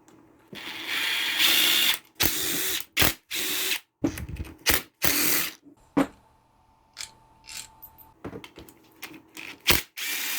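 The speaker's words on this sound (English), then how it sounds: "So let's get these sump bolts off." A 3/8 ratchet loosening the sump bolts on a battered lawnmower engine: close, loud bursts of rapid clicking with short pauses and faint clanks between them, in a quiet workshop with no talking.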